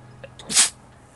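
One sharp, loud sneeze close to the microphone, preceded by a couple of faint intakes of breath, over a quiet background hum.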